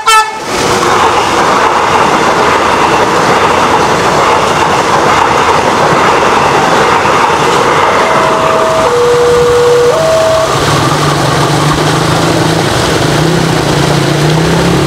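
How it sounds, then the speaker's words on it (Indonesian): A KRL commuter train from Jogja bound for Solo Balapan rolls loud and steady past a railway level crossing. Its horn toots through the middle of the pass, and the wheels rumble continuously with no talk over them. "KRL dari Jogja tujuan akhir Solo Balapan sudah melintas di CPL 115 Dukuh Sukorejo"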